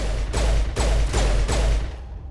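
Sniper rifle fire in the sci-fi shooter Mass Effect: four heavy, booming shots spaced roughly evenly about half a second apart, each with a sharp crack and a rolling low tail, loud and close with no talking.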